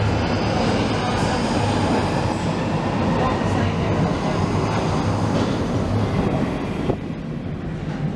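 A London Underground Jubilee line train near Charing Cross rumbles along steadily with a dense, loud roar and faint rattling, the noise easing slightly near the end.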